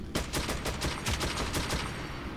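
Rapid heavy machine gun fire in the game Metro 2033 rattles in a steady burst of quick, evenly spaced shots, fairly close and continuous throughout.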